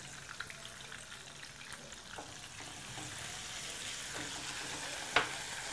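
Garlic, garlic paste and onion paste frying in a little hot oil give a soft, steady sizzle with faint stirring scrapes throughout and one sharp clink near the end.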